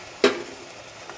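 Mushroom biryani masala being stirred after curd is added, a brief scrape and sizzle, then a quieter second stir near the end over faint background.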